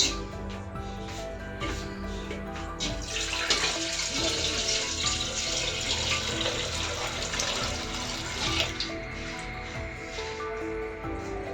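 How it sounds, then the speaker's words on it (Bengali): Tap water pours steadily into a basin or bucket at home while clothes are soaked and washed, a close continuous rushing with splashing and sloshing that swells in the middle, no talk. "কাপড় ভিজাবো এখন কাপড়গুলো ধুয়ে নেব"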